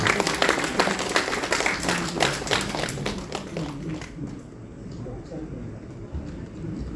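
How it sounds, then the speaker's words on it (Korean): Audience at a tea-culture book review event gives warm, rapid applause that stays strong for several seconds, then thins and fades into a low murmur of room noise. "뜨거운 박수로 축복을 하겠습니다."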